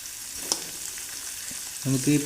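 Chicken pieces frying in a hot pan for Chettinad chicken curry give a soft, steady sizzle, with a spoon clink and brief louder stirring scrapes near the end.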